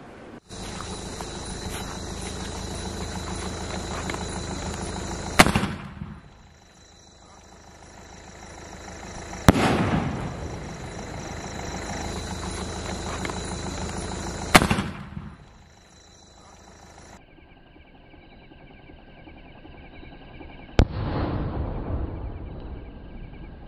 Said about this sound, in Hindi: ये रहा हमारा स्पेन स्काई शॉट चलिए अब इसे जला के देखते हैं